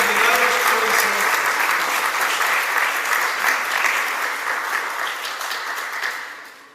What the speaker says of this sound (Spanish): les pido un fuerte aplauso